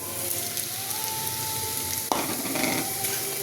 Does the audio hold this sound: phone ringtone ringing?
no